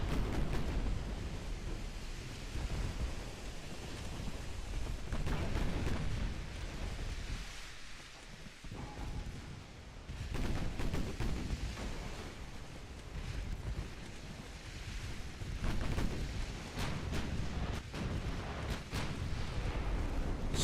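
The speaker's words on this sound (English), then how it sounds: "Got some big old hits coming in from the 11-inch battleships." Heavy 11-inch battleship shells striking in a naval battle game, a continuous loud roar of booming impacts and rumbling explosions with sea-like wash, no talk over it.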